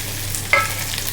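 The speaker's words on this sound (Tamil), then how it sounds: "போட்டு நல்லா வதக்கி விட்டுக்கோங்க." Thinly sliced small onions sauté in hot oil with popped mustard seeds, giving a steady close sizzle with a soft stir or scrape in the middle of the short stretch.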